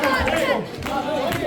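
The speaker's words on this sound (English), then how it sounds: "And the crowd are loud for Johnny Presley." A loud crowd at a live professional wrestling show cheers and shouts continuously, a dense roar of many voices filling the venue throughout.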